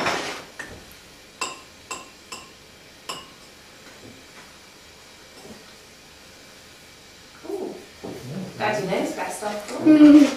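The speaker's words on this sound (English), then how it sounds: "made this big sort of gamelan with the flower pots" A child strikes a row of flower pots like gamelan, producing a handful of sharp ringing clinks spaced irregularly, then a busier clatter of knocks near the end, with faint voices mixed in.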